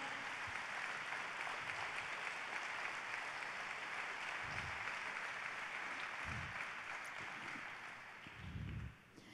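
A church congregation applauds, a broad steady wash of clapping that stays even and fairly distant before thinning out near the end.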